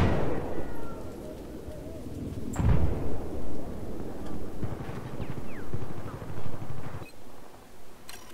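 An LAV vehicle blows up in Battlefield 4, a deep booming explosion midway through amid ongoing distant battle rumble and scattered gunfire, with a voice talking over the game.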